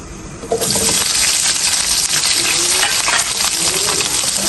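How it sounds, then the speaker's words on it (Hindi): Four or five chopped onions hit hot oil in a pan for lamb kofta, starting a sudden loud, continuous sizzle with occasional stirring scrapes, close and steady. "और मैं अब इसमें 4 से 5 अदद कटे हुए प्याज शामिल कर रहा हूं।"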